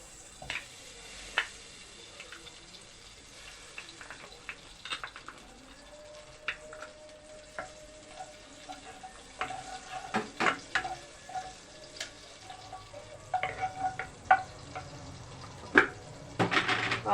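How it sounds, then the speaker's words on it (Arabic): Ghee melting and sizzling in a hot pot on a gas stove, with soft crackles and scattered clinks and stirring taps that grow busier toward the end, fairly faint and with no talking. "هنزل اول حاجه بالسمنه."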